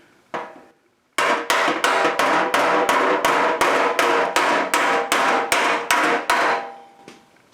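A hammer rings against a bucking bar during bodywork on a 1969 Mustang fender: one early blow, a pause, then about a dozen loud, evenly spaced metallic strikes in a steady rhythm, close up, with no talk.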